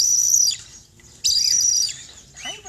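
High, thin chirps from a baby bird come in two loud bursts with a short pause between, close by over a low background hum.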